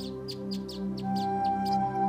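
Baya weaver birds calling near their nesting colony, a quick series of high, bright chirps repeating in an irregular rhythm over a steady low hum, faint and moderately distant.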